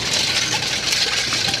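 Warm water pours and splashes into a bowl of sugar and salt for pretzel dough, a brief, steady gushing sound heard close up, with no talking.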